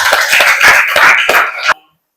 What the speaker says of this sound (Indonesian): Oke, tepuk tangan dulu buat kelompok 2,